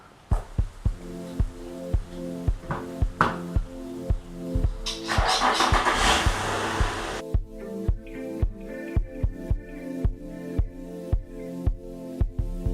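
A Nissan Skyline engine cranks and starts, revs loudly for a few seconds, then settles into a rhythmic idle with regular thumping pulses.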